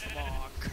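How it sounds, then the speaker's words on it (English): A short bleating animal call from an edited cow sound in a Minecraft resource pack plays once in the video game, fairly faint and under a second long. "Did you edit the cow sound?"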